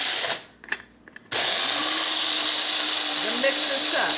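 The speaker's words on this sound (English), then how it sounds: "this is a basic coffee grinder, and all I'm going to do is put my onions in my coffee grinder" A basic coffee grinder grinding dried, dehydrated onion into powder starts with a few clicks and rattles, then a loud, steady high whine that drones on without pause, close by.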